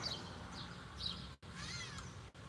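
Cat meowing indoors, a few faint, thin cries spread across the moment, quiet and close against low background noise, no talking.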